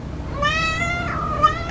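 An indoor house cat gives two close, clear meows, the first long and rising, the second shorter, with no talking over them.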